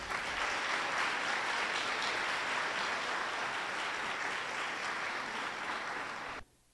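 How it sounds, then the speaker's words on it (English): Steady, dense audience applause fills the hall at a Hmong senior recognition ceremony as a judge is welcomed to the stage, holding even for about six seconds before cutting off abruptly. "let's give a warm hand of applause to welcome our Judge Adam Yang to the stage"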